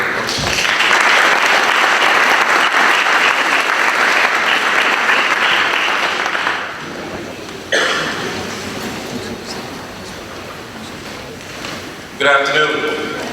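Loud, sustained applause from an audience welcoming new board members at a Florida Bar orientation, filling the room for about six seconds before fading, followed by talk and a brief scatter of clapping later.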